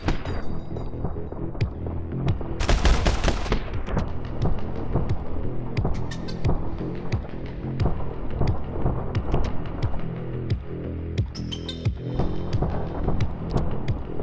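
Rapid gunfire in the action shooter My Friend Pedro, dense sharp shots crackling in quick bursts over a driving electronic music bed, loud and continuous with no talk.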